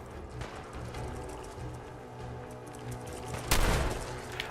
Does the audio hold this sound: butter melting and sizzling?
no